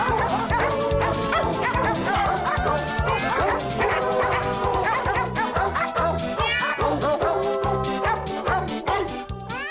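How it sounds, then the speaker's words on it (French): Several dogs bark, yip and whimper over and over in an audiobook excerpt. The busy, layered barking has a stacked yapping rhythm and stays loud and close throughout. "on va peut-être pas entendre parler de chiens, mais on va en entendre"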